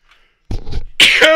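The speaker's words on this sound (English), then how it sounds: "That was a bad sneeze." A person sneezes up close, a short hissing intake followed by a loud, sharp burst, standing alone without talk around it.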